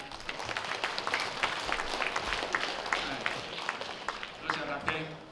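Applause from a seated audience at a community senior association's Lunar New Year gathering before a doctor's lecture, steady clapping that thins toward the end, fairly quiet and somewhat distant, with voices mixed in.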